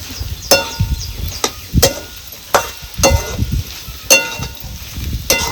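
Bitter gourd being stirred with jaggery in a pan, heard as a series of sharp spatula scrapes and knocks against the metal at irregular intervals over a faint low background.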